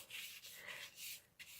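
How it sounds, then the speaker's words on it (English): A steady scratchy rubbing in short strokes as an anti-static powder tool is rubbed on tape, close by and fairly quiet, with brief pauses between passes. "So I'm just using my anti-static powder tool on that"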